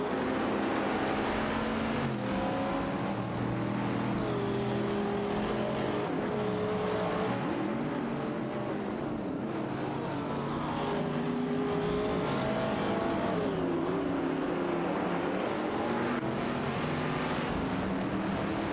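Race cars in an AI racing game roar and rev in a tightly packed field, engine notes rising and falling and overlapping as the cars jostle for position, loud and continuous with no talk.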